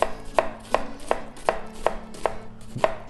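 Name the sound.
chopping white onions with a knife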